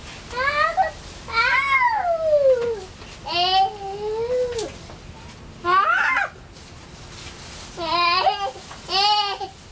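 A cat meows repeatedly indoors at a family home, several rising and falling drawn-out calls in uneven bursts separated by short pauses, fairly close and clear, with no talk over them.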